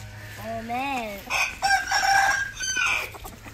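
In a video game, a chicken crows with a rising-and-falling call, then breaks into a burst of loud, close clucking. No one speaks over it.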